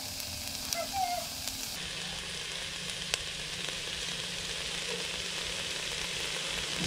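Pork frying with garlic, ginger and onions in a pan, a steady broad sizzle running the whole time with a brief shift in tone early on and no talking.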